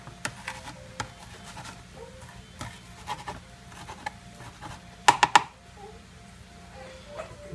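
Knife chopping vegetables such as broccoli, green onion and cauliflower on a board at home, with a quick burst of three sharp close taps amid light scattered ticks and a low steady room hum.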